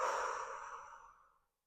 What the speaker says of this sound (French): À partir de là, tu vas souffler.